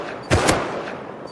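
A pair of quick sharp gunshots cracks close together in a raid in a video game, loud and brief over a low steady background rumble.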